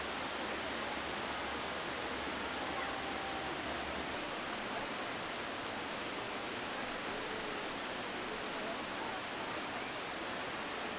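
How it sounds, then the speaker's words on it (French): A small waterfall roars with a steady, dense wash of falling water, close and continuous without any break. "Je kiffe les cascades."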